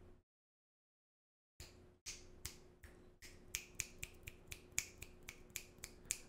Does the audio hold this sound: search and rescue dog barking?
no